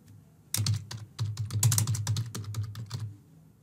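Rapid, irregular keystrokes on a computer keyboard as test card details go into an online store's checkout payment form. The clicks are close and crisp with no voices, beginning after a brief quiet moment and running steadily to the end.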